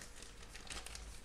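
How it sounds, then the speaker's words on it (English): A small plastic bag crinkling as it is handled during acrylic paint pouring, a quiet, continuous rustle with a few brighter crackles, close up and without talk. "I'm going to put the paint in the little plastic bag, as you can see."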